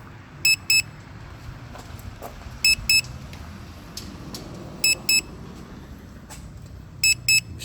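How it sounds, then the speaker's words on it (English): Hubsan Mini drone sounding its alarm: four paired bursts of high electronic beeps, each pair quick and loud, spaced about two seconds apart over a steady low background hum. "I'll just turn that beeping off."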